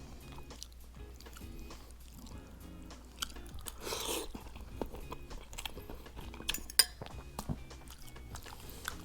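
Beef mami pares, a Filipino beef noodle soup, is chewed and bitten close to the mouth, with soft wet munching, occasional crunches and faint clinks of cutlery or dishes throughout, no talking.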